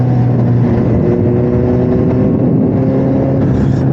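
A loud, steady Suzuki S750 motorcycle engine with a Yoshimura exhaust rumbles close by, its deep exhaust note droning evenly throughout.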